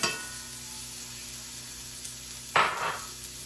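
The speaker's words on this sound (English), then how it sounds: "I'm gonna put the onion in there." Chopped onion hits a warm pan in a home kitchen and breaks into a sudden loud sizzle that fades into a softer frying hiss, following a quiet stretch of low hum.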